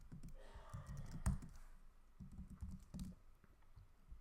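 Quiet, close computer keyboard typing, a short burst of scattered key clicks and taps with no talking.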